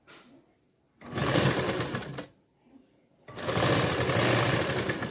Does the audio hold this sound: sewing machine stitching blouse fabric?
yes